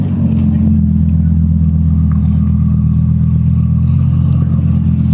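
Lamborghini Aventador SV engine idling with a deep, steady, loud rumble, running continuously with faint background noise from a supercar meet.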